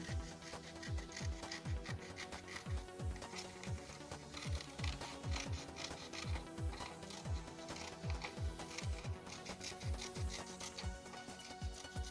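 Scissors cut out a paper shape for a children's appliqué craft, with quiet, evenly repeated snipping strokes that continue steadily close by.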